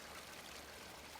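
Steady water flows through a large private garden several acres in size, a continuous close rushing and trickling wash with no pauses and no voices.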